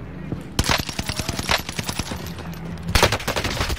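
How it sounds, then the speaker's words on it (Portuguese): Rapid bursts of automatic gunfire in the Pacific map of Call of Duty Warzone, a dense volley of loud shots with a second heavy burst near the end, over the game's background ambience. "quem que tá atirando em mim"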